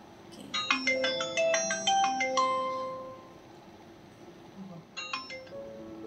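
A melodic electronic phone ringtone from an outgoing call in a car plays a rapid chiming tune for about two seconds, pauses, then starts again briefly; nobody speaks.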